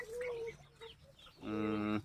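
Local chickens clucking close by on a farm in Nepal, a few short clucks followed by a longer, louder drawn-out squawk.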